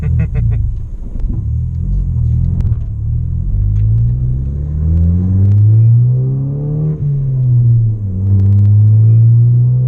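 Modified Ford Focus ST rolling on in second gear, a deep, close engine rumble that swells and settles in repeated gentle pulls, with no talking.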